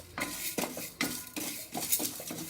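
Dals tipped from a container into a metal pan for dry roasting, giving several short clattering, rattling pours with knocks of metal on metal, close and moderately loud, with no talking.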